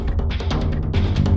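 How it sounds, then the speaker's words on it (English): The high track of adaptive music from the Angry Bots video game, playing solo: a loud, quick burst of rhythmic, pulsing electronic hits over a bass layer, with no voices. "And here's the high track by itself."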